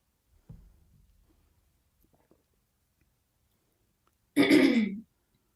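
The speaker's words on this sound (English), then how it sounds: "I have to clear my throat" A woman clears her throat once, a short loud close rasp after a faint bump and near silence.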